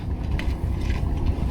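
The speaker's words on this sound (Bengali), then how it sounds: "আমাদের ইলিশ মাছ ধরা জেলে নৌকা ছুটে চলছে" A hilsa fishing boat on the Padma river makes a steady low rumble, with wind buffeting the microphone and water noise continuing throughout.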